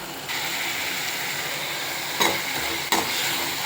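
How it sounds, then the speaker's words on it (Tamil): Tomatoes cooking for kadai paneer in a pan with half a glass of water, a steady bubbling sizzle throughout with two brief louder scrapes of stirring near the end. "அப்புறம் இந்த தக்காளி நல்லா நசுங்கி வேகும்."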